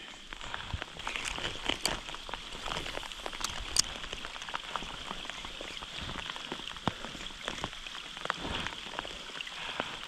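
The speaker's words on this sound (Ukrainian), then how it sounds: "Дощ, як бачите, все ж таки не зупиняється." Steady rain patters on surfaces beside a river during a pike fishing trip, a dense continuous hiss of drops with a few sharper close hits, loud and unbroken, with no talk.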